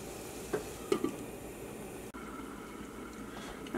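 Spicy, tangy taro (chembu) chili curry simmering in a covered pot, giving a steady soft bubbling hiss broken by a few faint knocks near the start.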